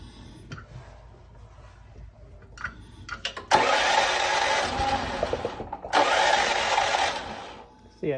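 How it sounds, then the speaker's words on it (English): A Champion generator converted to natural gas is cranked and fails to start, with short sputters followed by two long loud bursts of pull-starting and engine struggle, nearby, with someone speaking between attempts. "See, it kind of wants to start, but it doesn't really pull."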